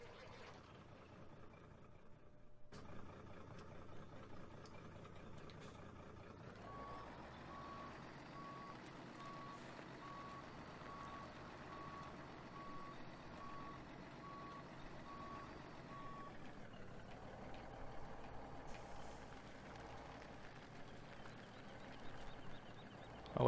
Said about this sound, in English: I'm going to have to probably back in my truck